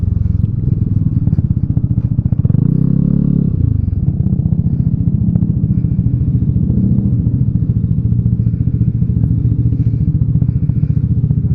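A Vespa scooter rides along with its engine droning steadily up close, a brief rising rev near the start and light clattering and wind over the rhythmic putter.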